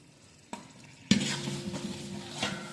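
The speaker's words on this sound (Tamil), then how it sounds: "இந்தாங்க கிண்டுங்க நல்லா" Garlic, ginger, mint and coriander hit a hot pan for Chettinad-style chicken biryani and are stirred. A sharp tap comes first, then a sudden burst of sizzling with scraping strokes of the spoon, close and clear.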